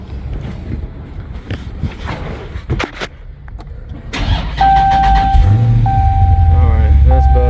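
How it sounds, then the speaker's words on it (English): A 2020 vehicle's engine cranks and catches after some shuffling and clunks, then settles into a steady idle alongside a high electronic tone, loud and close. "I'm gonna start the vehicle."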